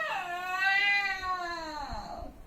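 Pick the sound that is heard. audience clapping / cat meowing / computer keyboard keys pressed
cat meowing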